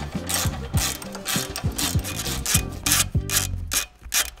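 Ratchet wrench with a socket turning the idler pulley jack screw on a Nissan Xterra 3.3L, close up: a rapid series of loud, evenly spaced clicking ratchet strokes with rubbing between them.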